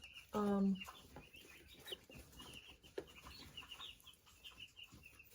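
Young chicks in a brooder with a trough feeder and waterer, one short loud cluck near the start followed by faint scattered peeps and chirps in a quiet room.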